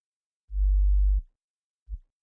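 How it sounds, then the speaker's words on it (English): A pure sine-wave sub-bass synth in Ableton Live, pitched down two octaves for a bass house track. It plays one sustained deep note, then a short second hit, clean and alone. "is a pure sine wave again, which has been taken down by 2 octaves"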